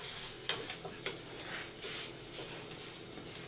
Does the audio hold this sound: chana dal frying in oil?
yes